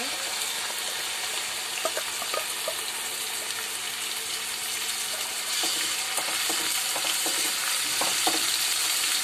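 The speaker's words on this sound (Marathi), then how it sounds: "हे व्यवस्थित परतून घेणार आहे। जोपर्यंत हे टोमॅटो स्मॅश होत नाही तोपर्यंत हे तेलामध्ये फ्राय करायचे आहेत।" Chopped tomatoes and onion fry in hot oil as the base for a Malvani chicken rassa, giving a loud, steady sizzle close up with scattered clicks of stirring throughout.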